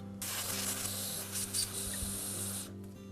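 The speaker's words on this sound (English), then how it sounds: "I'll generally spray the carburetor off" A continuous spray of carburetor cleaner hisses close by onto a string trimmer carburetor for nearly three seconds, with a slight pulse midway, then cuts off.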